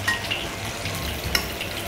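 Chicken pieces sizzle and spit in hot oil in a pan, a dense continuous frying hiss close by with brief crackles, no talk.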